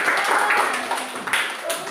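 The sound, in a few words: applause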